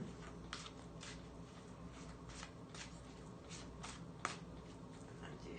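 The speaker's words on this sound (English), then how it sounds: "Shuffle them. Let me shuffle the next one and see what we have." Tarot cards shuffled by hand in a steady run of soft riffles and flicks, close and quiet, alone for several seconds with a sharper snap of cards near the end.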